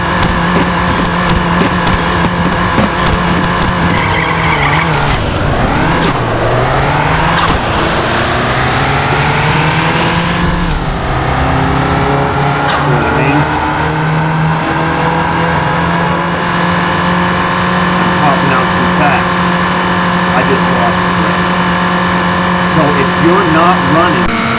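A car engine in the Nitro Nation racing game revs hard through a 1-mile test drive, its loud, continuous tone sweeping up and dropping at gear shifts, with a faint voice underneath.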